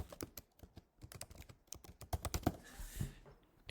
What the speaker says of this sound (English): Here they're going to type in some text.